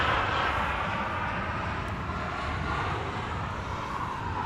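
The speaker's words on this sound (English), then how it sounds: "In the foreground we have KLM Cargo, Boeing 747-400, flight time 8 hours 19 minutes." A KLM Cargo Boeing 747-400 arrives at Amsterdam Schiphol Airport, its engines a broad steady roar, fairly distant and constant with no voices.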